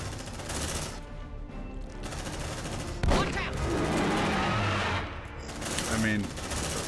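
Automated turrets firing in the sci-fi game Aliens: Dark Descent, a dense, continuous rattle of rapid shots that never lets up, with a sharp spike partway through and voices talking over the din.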